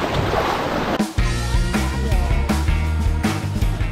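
Sea water surges and splashes against rock cliffs at high tide, a loud continuous wash with rhythmic heavier slaps and wind buffeting the microphone.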